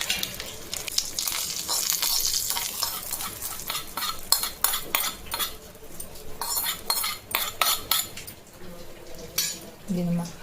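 A spoon stirs hot tempering into homemade carrot chutney powder in a pan, with repeated scraping and clinking strokes at close range and a soft sizzle beneath.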